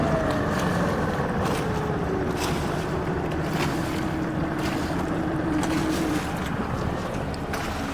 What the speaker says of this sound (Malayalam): അല്ലാതെ ബോട്ടൊക്കെ പോകുന്നുണ്ട്